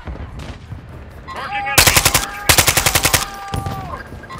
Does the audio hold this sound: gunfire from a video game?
yes